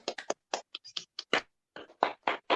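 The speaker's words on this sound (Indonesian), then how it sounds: "kalau setuju tepuk tangan dulu dong supaya semangat kita hari ini ya" Students in an Indonesian classroom clap their hands in a short burst of separate, uneven claps, close and fairly quiet, with brief pauses between groups of claps and no talking.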